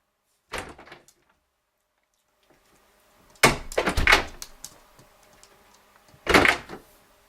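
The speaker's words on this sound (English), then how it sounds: "The door opening trigger. Open the door" A household door is handled in three separate bursts: a short knock-like clatter, then a louder run of thumps and rattles, then a final solid bump, each separated by quiet, with no talking.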